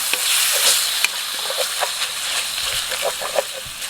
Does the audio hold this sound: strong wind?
no